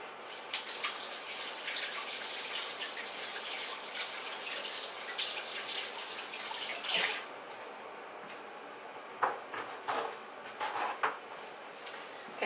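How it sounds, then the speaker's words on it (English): Running tap water splashes steadily as hands are washed in a kitchen sink while rye bread is being made. It stops near the end, leaving scattered drips and small clatters. "So let me again wash my hands."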